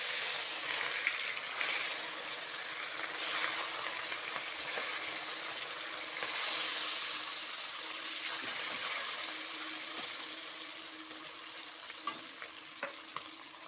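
Bata fish frying in hot oil in a home kitchen, a steady bright sizzle and crackle that runs continuously at moderate loudness with no one talking.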